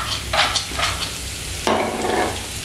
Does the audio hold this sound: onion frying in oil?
yes